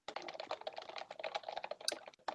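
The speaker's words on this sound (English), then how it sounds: "typing away quickly" Fast typing on a computer keyboard, a dense run of quick light clicks and clacks at close range with a few brief pauses and no voices.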